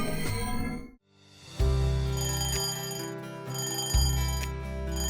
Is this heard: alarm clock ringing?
yes